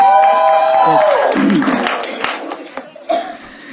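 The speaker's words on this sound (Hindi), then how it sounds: "जोरदार तालियां हो जाए" A loud burst of stand-up comedy audience applause and cheering swells, then gradually thins out into scattered claps.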